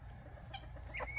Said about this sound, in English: Look at that rooster.